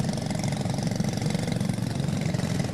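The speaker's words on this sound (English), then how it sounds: "Engines are fired." Tillotson T4 racing kart engines run at the track, a steady, buzzing small-engine drone with a fast pulsing throb, fairly close and continuous.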